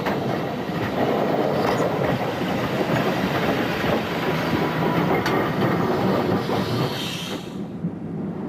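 Continuous rumbling of a moving tram in Brisbane, with rhythmic wheel clatter and a faint screech near the end; no voices.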